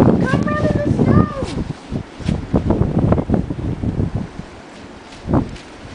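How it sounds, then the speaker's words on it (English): Wind gusts rumble across a microphone outdoors on a snowy day, a loud, buffeting roar with a few clattering bumps. Excited voices shout and talk over it throughout. "the wind is not fun"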